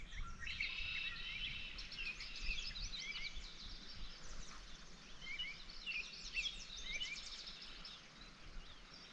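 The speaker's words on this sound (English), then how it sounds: "Listen to those birds." Many small birds sing and chirp steadily in a peaceful mountain meadow in Idaho, bright overlapping calls at moderate distance over a soft wash of background noise.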